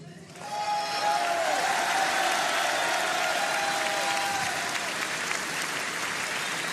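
A large crowd at a political rally breaks into loud, sustained applause that swells quickly and holds steady, with scattered shouts mixed into the clapping.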